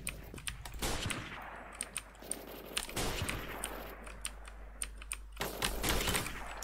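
Submachine gun fire in a shooter video game, repeated short bursts of sharp cracks over a low background, fairly faint and scattered through the clip.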